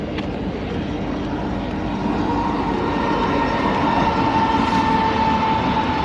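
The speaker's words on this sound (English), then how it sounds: "Oh, this train sounds much smoother than the last one, though." A train runs smoothly past, producing a steady, fairly loud rolling rumble and wheel hiss that holds evenly throughout, with a faint sustained tone rising in the second half.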